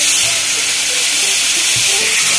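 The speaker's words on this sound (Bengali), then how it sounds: "দুটো গ্রেভির জন্য আমি কড়াই তেল নিয়ে 5 ফোড়ন দিয়ে দিলাম।" Panch phoron five-spice tempering sizzles in hot oil in a kadai wok, giving a loud, steady, close hiss for the whole moment with a faint voice-like murmur underneath.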